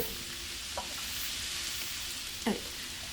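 Drinking water poured steadily into a jar holding homemade apple vinegar, a continuous soft rushing hiss with a couple of faint clinks.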